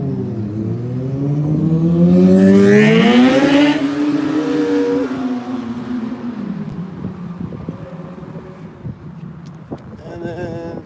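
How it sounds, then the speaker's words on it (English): A motorcycle engine revs loudly nearby, its pitch climbing sharply to a peak, then easing back down and settling into a lower idle hum. "And then they're revving it again now."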